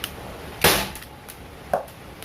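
An airgun fires at a watermelon, two sharp short cracks about a second apart, each with a brief impact thump, close and otherwise quiet.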